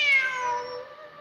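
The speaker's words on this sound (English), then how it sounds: "Wait, there it is! The cat!" A single drawn-out cat meow from Genshin Impact, clear and close, its tone sliding gently downward over about a second with nothing else in the background.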